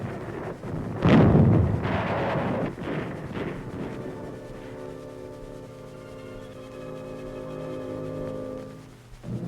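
Fragmentation grenade explosions in WWII combat from 1944: a heavy, booming blast followed by several more muffled thuds, then a sustained low droning hum as the rumble fades.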